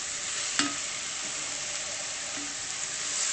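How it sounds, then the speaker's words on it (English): Vegetables, some frozen, sizzling in a frying pan as the base for a tuna pasta bake, a steady soft hiss broken by a few utensil clinks and stirring scrapes, close and without talk. "I'm just trying to fry these before I add my tuna."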